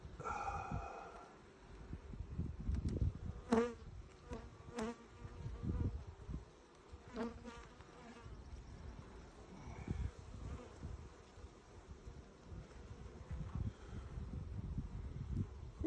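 Honey bees swarm around an open, strong hive during an inspection, making a soft steady buzzing drone with occasional close knocks and a breathy puff over it, fairly faint overall and with no speech.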